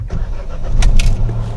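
A Kia Syros turbo petrol engine cranks and catches, loud and close from inside the car. The low rumble swells briefly as it fires and then settles into idle, with no one talking.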